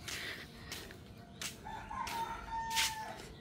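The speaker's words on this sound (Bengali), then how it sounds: "ওই যে মুরগি দেখা যেতেছে" A rooster crows faintly at a distance in a village yard on an early morning, one drawn-out call rising over a soft, steady background hum, with no one speaking.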